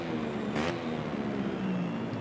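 MotoGP racing motorcycle engine in the VR46 video game, a sustained high-revving drone with shifting pitch and a brief hiss partway through.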